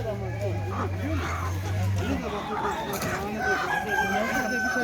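Chickens and a rooster at a poultry market crow and cluck amid a busy mix of voices, with one rooster's crow standing out near the start.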